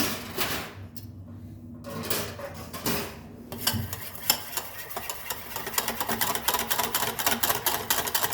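A spoon stirs a curd mixture with saffron in a bowl for Kashmiri mutton rogan josh, producing rhythmic scraping and clinking against the vessel that grows quicker and more regular toward the end.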